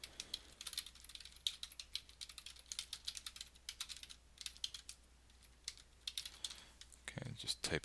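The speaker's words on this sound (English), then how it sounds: "just typing something in there" Quiet, close keystrokes on a computer keyboard tap in quick irregular bursts, light clicks pattering for several seconds with a brief faint voice near the end.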